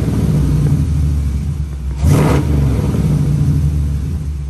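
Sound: supercharged Dodge Durango R/T engine revving

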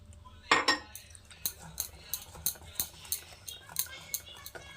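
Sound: beating biscuit cake batter in a bowl

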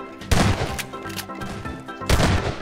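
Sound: gunshots in video game Garry's Mod Prop Hunt

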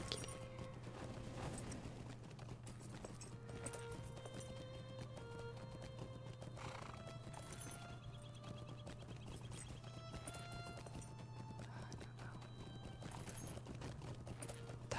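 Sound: horse hooves clip-clopping in the video game LOTRO

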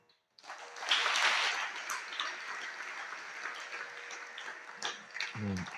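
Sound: audience applause at a religious discourse

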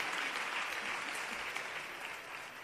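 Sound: audience applause at a choir contest award ceremony

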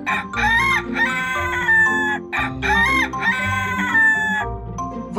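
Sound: rooster crowing

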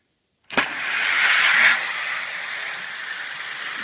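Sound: pinewood derby cars racing down the track

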